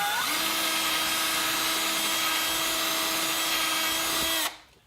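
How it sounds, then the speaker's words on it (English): A Dremel rotary tool deburrs freshly drilled holes while a headlight and fog light kit is installed on a Mustang Power Wheels ride-on toy. It gives a steady, loud, high-pitched whine that holds for about four seconds, then cuts off abruptly. "this is where your Dremel or your utility knife is gonna come handy"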